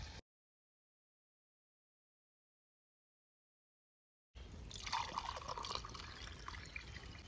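Coconut milk pours into a pot of mutton dum biryani, a soft close liquid trickle and splash that starts after a long silent gap and continues steadily to the end.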